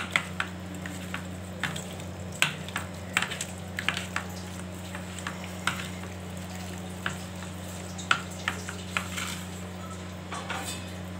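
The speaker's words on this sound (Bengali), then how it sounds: "এবার ভালো করে মাখবো, আবার একটু মাখছি।" Hand-mixing of fish with chili powder and oil for Bengali macher paturi, heard as soft wet squishes and scattered light clinks of a bowl or utensils, close and steady over a constant low hum.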